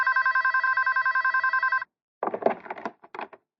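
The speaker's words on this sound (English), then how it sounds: "she was woken by the phone ringing" Telephone bell rings continuously and loudly for almost two seconds in an acted scene, then stops, followed by a few close handling knocks and clatter as the receiver is picked up.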